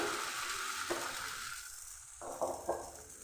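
Batter poured into an oil-brushed wok for patishapta sizzles in a soft, steady hiss, with a few light scrapes and taps as the wok is swirled, fairly faint and close, no speech.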